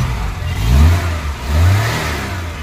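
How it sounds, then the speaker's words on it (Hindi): A Maruti Omni engine catches and revs after repair, rising in two strong surges before settling toward a steady idle, loud and close with no talk over it. "ये देखो एक हाफ चाबी में गाड़ी स्टार्ट।"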